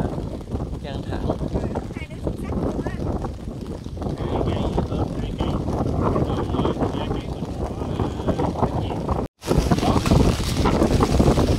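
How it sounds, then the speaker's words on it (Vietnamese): Heavy rain and strong wind lash a lakeside island campsite at Đa Mi lake, a loud, continuous roar with gusty buffeting on the microphone and a speaking voice mixed in throughout. "bây giờ mưa đang rất là căng thẳng"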